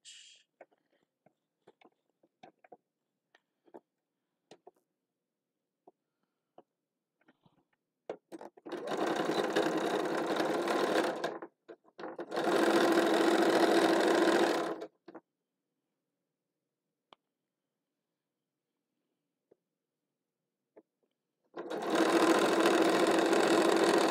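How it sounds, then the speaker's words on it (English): A sewing machine top stitching a winter hat runs in three steady whirring bursts of a few seconds each, close and loud, with soft handling clicks and fabric rustles in the quiet gaps between runs. "let's see how this looks if I top stitch"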